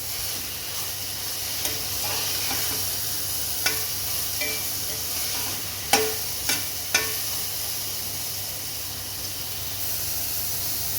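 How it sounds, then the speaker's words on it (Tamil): Spices frying in a pan with salt and turmeric powder, a steady soft sizzle broken by a few sharp clicks of stirring, close and alone. "தேவையான அளவு உப்பு மஞ்சள் தூள் இதை சேர்த்துட்டு நல்லா ஃப்ரை பண்ணிக்கலாம்"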